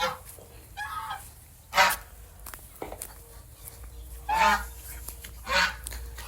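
Ducks and chickens are fed on a morning farmyard. Several loud honking quacks break out in separate bursts over a quiet background of faint clucking and rustling.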